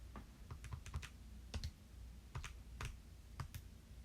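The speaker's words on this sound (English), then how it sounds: "I was typing a negative in my calculator on accident" Keys tap on a calculator keypad in a quick, irregular series of sharp clicks, faint and close, with no talking.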